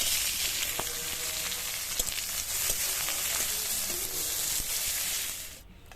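Chopped onion and green chillies sizzle in oil alongside dried red chillies for a Bengali kochu shak dish, a continuous bright crackle with scattered spatula taps that fades out at the end.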